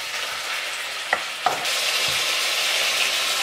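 Beef browning in oil in a pot for a mafé stew crackles with a loud, steady sizzle, punctuated by two sharp utensil knocks early on.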